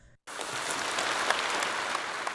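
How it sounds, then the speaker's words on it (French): Deputies of the National People's Congress in China burst into steady, warm applause after a short silence, dense clapping continuing evenly to the end. "Les applaudissements chaleureux suggèrent qu'une réunification complète de notre patrie est une aspiration commune"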